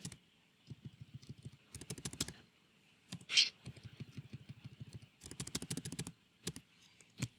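Keys clatter on a computer keyboard in bursts of quick typing separated by short pauses while editing a file on a CentOS system, close and fairly quiet, with a single sharper click midway.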